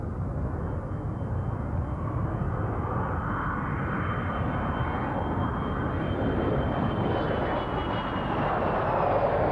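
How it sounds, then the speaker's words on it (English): Jet airliner with quieter 1980s-generation engines at Jersey Airport, a steady, loud broadband engine roar that holds through the whole stretch with a faint whine riding above, no voices. "there's a whole new generation of jets using the quiet engines of the 80s."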